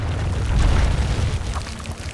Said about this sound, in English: Tower destroyed.